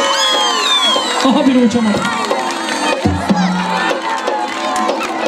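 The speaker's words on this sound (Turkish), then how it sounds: "Evet, alkışlarımız onlara gelsin." A lively crowd cheers and applauds loudly and steadily throughout, with voices shouting and a person speaking among the noise.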